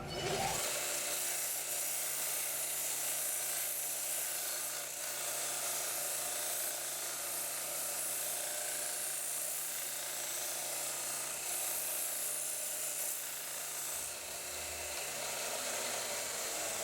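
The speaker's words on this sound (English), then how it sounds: "I'm going to round over the fronts of them, and I'm just going to sand that down on my little belt sander." A small belt sander rounds over the fronts of wooden pieces for a shut-the-box game, a continuous close whine with gritty rasping that holds steady before cutting off near the end.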